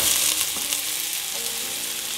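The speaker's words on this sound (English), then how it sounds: "Now in go my leeks and my salt." Leeks and salt frying in melted butter in a pan give a steady, close sizzle with a faint crackle throughout, with no talking.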